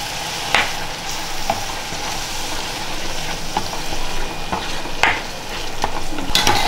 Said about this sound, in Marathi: कांद्याची प्युरी चांगली अशी परतून घ्यायची व्यवस्थित आणि त्यानंतर मी टाकते टोमॅटोची प्युरी.